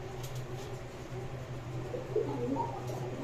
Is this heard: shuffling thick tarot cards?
no